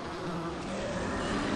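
A short burst of dense insect buzzing, a swarm of bees spat out by a zombie in Dead Rising 3, hums close and steady for under two seconds with no talking.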